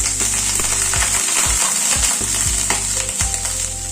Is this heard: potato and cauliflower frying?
yes